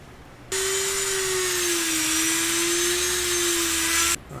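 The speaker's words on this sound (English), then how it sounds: "So I like to swap this out and replace it with a stone grinding bit." A rotary stone grinding bit smooths foam, giving one continuous loud whirring grind with a steady motor tone for about three and a half seconds, starting and stopping abruptly.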